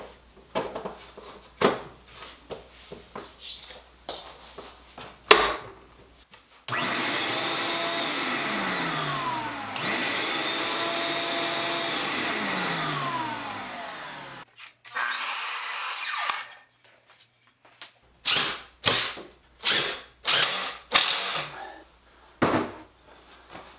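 A shop vac used for workshop dust collection runs in bursts, with several seconds of steady loud suction whine that rises and drops, between shorter switching and tool noises.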